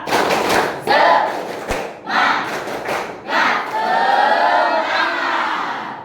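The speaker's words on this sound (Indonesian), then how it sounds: "Tepuk semangat ya. Tepuk semangat." Schoolchildren in a classroom perform a rhythmic clapping chant, loud bursts of shouted chanting and claps in short rounds with thumps, near and energetic, with a crowd of young voices throughout.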